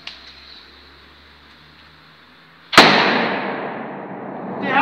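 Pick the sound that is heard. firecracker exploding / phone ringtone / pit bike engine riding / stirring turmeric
firecracker exploding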